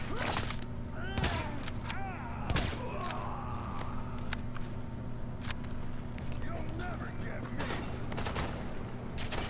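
Scattered gunfire in a hallway in the video game The Division: sharp, distant-sounding shots and short bursts at irregular intervals, fairly quiet beneath someone talking over them.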